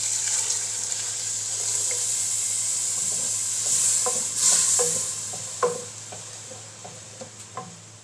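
Water poured into a sizzling kidney bean curry masala (rajma) while frying, a steady hiss and sizzle with scattered stirring clatters and small spattering pops near the end, close and moderate, no talk.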